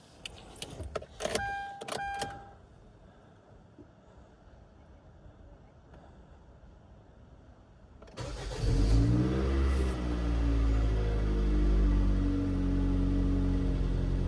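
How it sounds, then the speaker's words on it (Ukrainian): A Kia Carens 3 with the 2.0 G4KA petrol engine, after its fuel rail was removed and the injectors greased, cranks and starts, then settles into a steady, loud idle that runs on uninterrupted, following a few clicks and a quiet stretch. "заводимо машину, дивимось, чи не змінилося щось у нас"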